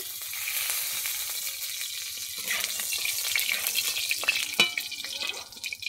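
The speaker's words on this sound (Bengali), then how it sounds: "আলুগুলোকে এবারে ভেজে নিচ্ছি।" Potatoes fry in oil in a kadai, giving a steady close sizzle that grows busier and crackles more toward the end.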